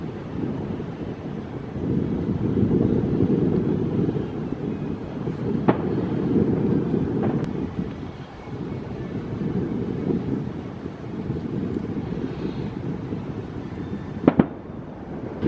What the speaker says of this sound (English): seeing fireworks back in Disney World is very exciting